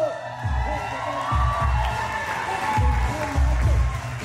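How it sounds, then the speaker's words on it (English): Wedding guests clap and cheer as the bridal party is brought in at a reception, the clapping and whoops rising and falling in bursts over a thumping music beat, with voices shouting in the crowd. "Y'all keep clapping."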